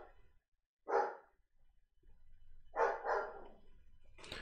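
A dog barks in separate bursts, one single then a quick double, moderately close and clear against a quiet room, with a fainter yip trailing at the end.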